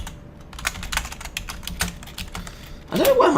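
Rapid clicks of computer keyboard typing while someone codes a 2D car-reservation array, irregular bursts of close keystrokes with a louder clatter at the end; no talking.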